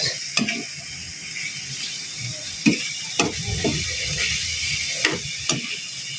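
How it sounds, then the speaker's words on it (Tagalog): Sautéed pork with liver, carrots and baguio beans being stirred in a sizzling pan, with a steady fry hiss under repeated scraping and clanking strokes of a utensil against the pan, no talk. "Haluin lang natin ng maigi guys"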